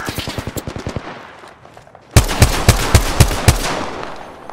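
Bursts of automatic gunfire in an Apex Legends match: a rapid string of sharp shots, a short lull, then a louder, closer volley of heavy, evenly spaced reports ringing over a dense battle background.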